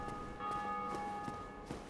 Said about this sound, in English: I hear the bells.